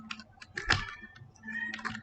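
Typing on a computer keyboard while writing CSS code, a handful of close, soft key clicks and one sharper tap, irregular and quiet.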